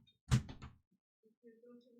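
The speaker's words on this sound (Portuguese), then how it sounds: "você vem bater na minha porta?" Knocking on a door: a short cluster of two or three quick, close knocks, followed by quiet and then faint low sounds.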